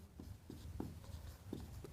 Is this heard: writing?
yes